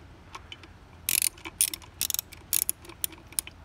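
Ratchet wrench tightening bolts near an oil plug hole being repaired with a Helicoil thread kit, bursts of quick metallic clicking in short strokes with small taps between, close and alone.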